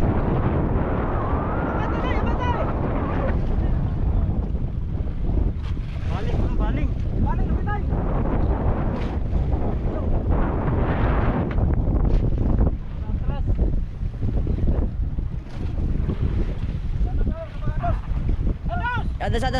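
Strong wind gusts buffet the microphone on a boat out at sea, roaring loudly and unevenly throughout, while a voice speaks excitedly over the blustering noise.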